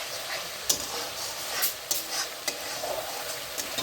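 Spice paste frying in oil for a homestyle vegetarian soybean and potato curry, a steady soft sizzle with scattered scraping clicks from a spoon stirring through it, close by and continuous with no talk.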